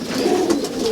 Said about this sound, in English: this is my homer coop basically